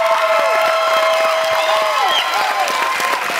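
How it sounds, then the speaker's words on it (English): A crowd at a 2012 cage-fighting MMA tournament applauds and cheers steadily, with whoops and shouts rising over continuous clapping throughout. "Now, round of applause for Carl, man."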